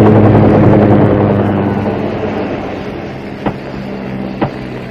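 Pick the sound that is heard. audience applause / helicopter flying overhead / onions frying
helicopter flying overhead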